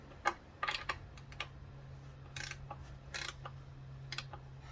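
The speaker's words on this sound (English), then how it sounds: "We're going to go ahead and get our 10mm back out. We're going to finish tightening up this right here." A 10mm socket wrench tightens a bolt in the engine bay of a 2015 Dodge Journey SXT 3.6L V6, quiet short bursts of ratcheting clicks separated by pauses over a faint low hum.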